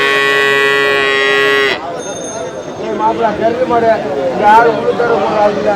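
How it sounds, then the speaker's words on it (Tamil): Cattle at a Melur livestock market give a long, loud moo lasting nearly two seconds, then a busy crowd of voices talking continues under it. "இது என்ன மாடு என்ன"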